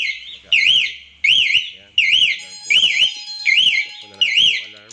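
An Eagle Eye smoke and motion sensor security alarm sounds a loud warbling siren, repeating in steady pulses about every 0.7 seconds, close and piercing, with faint talk underneath.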